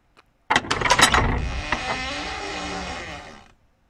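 A door being opened: a rapid burst of clicking latch and rattling mechanism noises followed by a long creaking, grinding sweep that fades out, close and loud with no voices.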